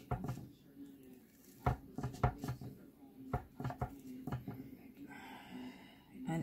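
Shepherd pie fresh from the oven being cut in a square pan, a series of soft knocks and scrapes of a utensil against the pan, quiet, with hushed talking underneath.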